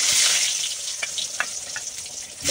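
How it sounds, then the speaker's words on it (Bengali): Eggplant pieces sizzle steadily in hot oil in a home kitchen, a bright continuous hiss with a few soft pops and stirring clicks, close up and without talk. "এদিকে আগে বেগুনটা ভাজবো"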